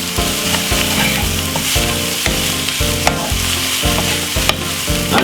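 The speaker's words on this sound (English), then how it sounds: "what we're going to do is give it a stir" Garlic and vegetables for a vegan butternut squash spaghetti fry in a pan, with a steady sizzle and repeated rhythmic scraping stir strokes close up.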